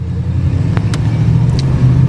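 Oldsmobile Delta 88 Royale Brougham coupe with a V8 engine accelerating on the road, a steady close low rumble from inside the car with no talk over it.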